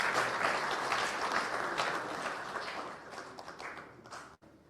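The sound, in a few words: audience applause for lecture panelists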